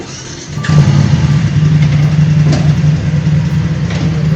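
A BMW R1250RS motorcycle with a boxer engine runs steadily and loud, its low throbbing note swelling after a quiet start and holding a rough, constant rumble with slight revving throughout.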